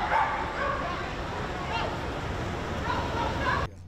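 At a prestigious New York dog show, a dog gives several yips and barks amid crowd chatter and people talking nearby.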